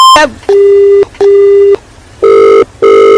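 A loud, close electronic telephone tone beeps four times in a steady on-off pattern with short pauses between.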